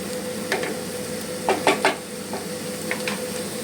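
Mushrooms sizzling and frying in a pan over a high gas flame for butter garlic mushroom, a steady soft hiss with a few louder clinks of a spatula stirring and scraping against the pan.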